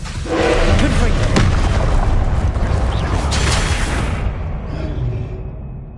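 A Confringo blasting spell goes off in Hogwarts Legacy, a loud booming burst that fills the first few seconds with a dense rumbling roar, then fades out as the blast dies away.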